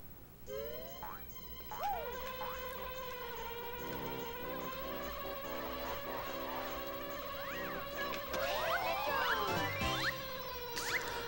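In the Banjo-Kazooie video game, a player-controlled bee gives off a steady, high electronic buzz with wavering pitch while cheerful game music and bouncy sound effects play alongside it throughout.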